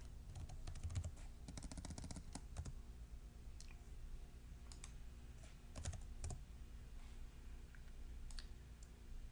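Computer mouse clicks and keyboard taps at a desk come as quiet, sharp clicks in short bursts and scattered single presses over low background hum while a 3D printer bump map is edited in software.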